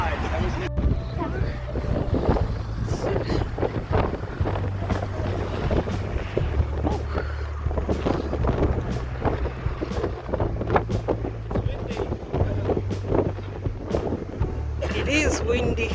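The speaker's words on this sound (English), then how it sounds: "It is windy." Gusty wind buffets the microphone on an outdoor walking tour in the Bo-Kaap neighbourhood of Cape Town, a steady loud rumble with a voice speaking over it.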